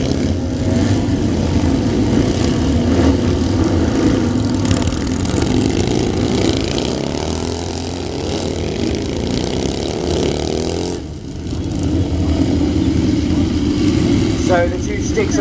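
Royal Signals White Helmets display motorcycles ride back and forth across a show arena at a steam fair. The engines drone steadily at middle distance and swell and fade as the bikes pass, with an announcer talking over them throughout.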